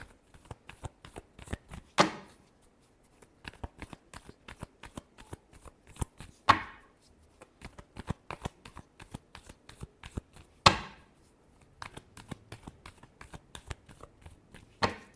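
Tarot cards shuffled by hand for a Virgo reading, a steady run of quick crisp riffling flutters with three louder bursts where the deck is bridged, close and clear with no talking.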